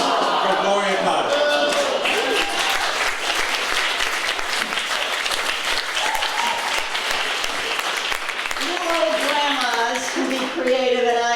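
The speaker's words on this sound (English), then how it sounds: "So ladies and gentlemen, big applause for Gloria Kotick" An audience at a comedy roast in Iowa City bursts into loud, sustained applause, dense clapping filling the room, with a voice speaking briefly at the start and again near the end.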